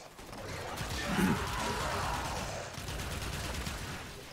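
Rapid bursts of gunfire in the video game Warframe crackle over a steady background, with a brief deeper boom early on, dense and continuous throughout.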